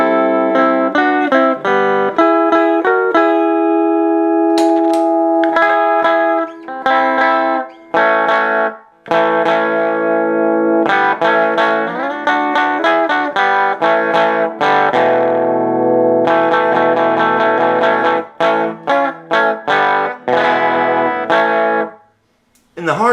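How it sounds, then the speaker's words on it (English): A distorted electric guitar plays chords and bends through a Four Force amp, sometimes clean and sometimes gritty, with short pauses between phrases. "It'll go from just plain old smooth and mellow, and then to full distortion."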